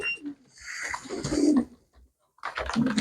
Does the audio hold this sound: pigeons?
yes